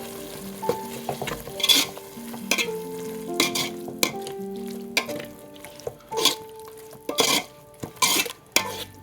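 Ginger-garlic paste fries for mutton dum biryani as a spoon stirs it in a metal pot, giving loud, uneven scrapes and clanks over a low sizzle, close up and without speech.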